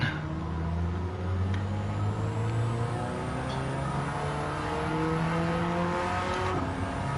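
A turbocharged car engine in Gran Turismo 7 pulls hard and steady, its drone climbing as boost builds, with tyre noise beneath and no pauses for the whole stretch.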